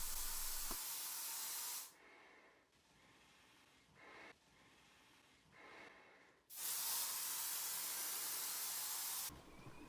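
Two long, loud bursts of aerosol air freshener spray hiss close by in a bathroom, separated by a quieter stretch with a few short puffs.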